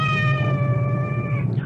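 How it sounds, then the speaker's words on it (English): A cat gives a single drawn-out meow nearby, a loud, sustained plaintive cry lasting over a second over faint room noise, alone without speech. "I hope that cat isn't trapped somewhere."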